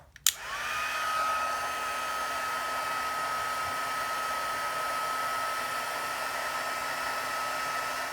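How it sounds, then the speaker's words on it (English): A crafting heat tool blows steadily to melt white embossing powder on a Christmas card, heard as a continuous close whirring blow with a faint whine that starts after a brief click and runs unbroken. "Then I'll bring in my heat tool and I'm just going to heat this until it melts."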